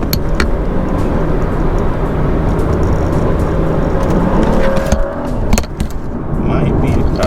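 A car wearing a new Vorsteiner wheel and tire setup pulls hard through second gear, its engine a loud, steady close-up drone with road roar that dips briefly near the end before building again.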